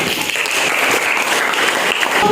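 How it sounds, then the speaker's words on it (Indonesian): A class claps steadily in dense, continuous applause, with no voices. "Tepuk tangan dulu."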